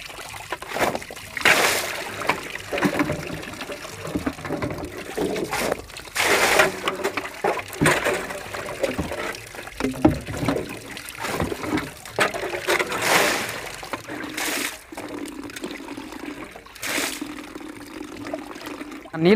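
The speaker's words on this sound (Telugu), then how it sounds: "చూడు క్యారెట్ క్లీన్ చేసే విధానం" Carrots being washed in water, with repeated loud splashing and gushing surges over nearly twenty seconds, close up and steady, with no talk.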